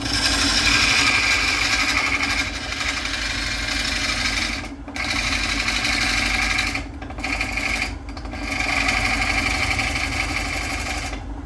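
Skew chisel cutting a wooden bowl blank spinning on a lathe, a steady loud whirring drone with brief dips where the tool lifts off the wood.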